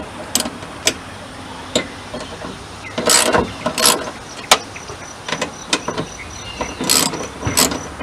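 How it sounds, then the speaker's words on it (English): A ratchet fitted with an 11 mm socket loosens a bolt while replacing the passenger-side mirror on an Isuzu VehiCROSS, giving short bursts of close, dry clicking separated by pauses. "I'm going to go ahead and find ratchet that I can pull that out with"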